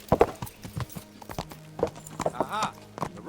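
Horse hooves clip-clopping in the medieval video game Kingdom Come: Deliverance, irregular close hoofbeats with some tonal game sounds, heard under someone talking.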